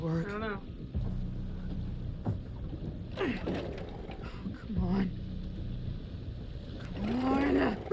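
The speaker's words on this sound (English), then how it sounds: "She's gonna flood the engine at this rate." A boat engine in The Devil in Me fails to start, sputtering in repeated short pull attempts that sink back into a low idle rumble, with voices talking over parts of it.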